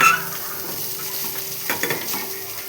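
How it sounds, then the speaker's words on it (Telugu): Rice tipped into a frying pan and stirred back and forth, with a soft sizzle beneath a few quick scraping spoon strokes that bunch together near the end. "ఈ రైస్ వేసుకొని అటు ఇటు కలపాలి"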